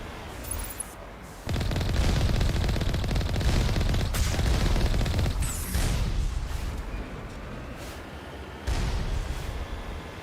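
Turret fire in Mass Effect 1 roars as a dense, continuous barrage with heavy booming bursts, loud and sustained for several seconds before briefly easing, then surging again.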